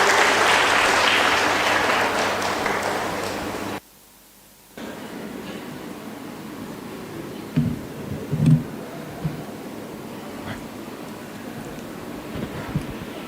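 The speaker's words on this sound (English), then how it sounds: "give yourselves a big round of applause for being here" A workshop audience applauds in a loud, dense burst of clapping lasting several seconds, then cuts off abruptly; afterward only a quiet room remains with a few faint thumps and rustles.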